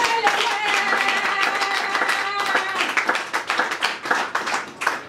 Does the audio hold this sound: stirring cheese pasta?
no